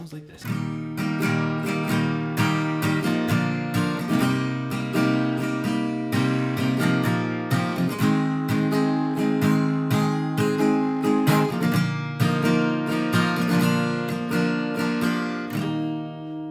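An acoustic guitar plays a song, with continuous rhythmic strumming and picked chord changes, full and close throughout and no talking.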